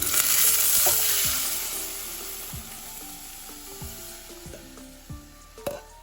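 Yogurt mixture poured and stirred into sizzling kadhi with cumin seeds and curry leaves in the pot, loud frying hiss at first easing down, with repeated spoon scrapes and knocks against the pan.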